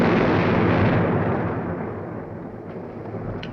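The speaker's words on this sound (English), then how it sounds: "Ammo dump. Must be touching off our own stuff." Ammunition dump explosion in a war film, a loud, deep roaring blast that rumbles on and slowly fades, with no voices over it.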